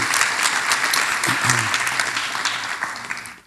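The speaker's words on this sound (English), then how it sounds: "You can clap now." A crowd at a high school scholarship night claps steadily for a few seconds, a dense even patter of many hands that fades out at the end.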